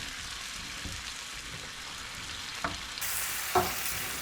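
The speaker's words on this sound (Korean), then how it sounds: "물 살짝 넣어가지고 졸인다는 느낌으로 해줄게요" Kimchi cooking down with a splash of water in a frying pan gives a steady, fairly soft sizzle and bubble, with a couple of brief utensil clinks near the end.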